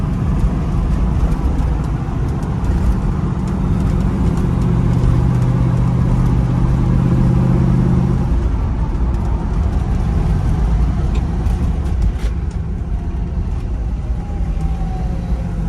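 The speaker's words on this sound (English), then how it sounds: "Driving down the road at 40 miles an hour, steers nice and straight down the road." A 1968 Chevrolet Camaro RS convertible cruises at about 40 mph, a loud steady road rumble and engine drone heard from inside, with wind noise and no talk.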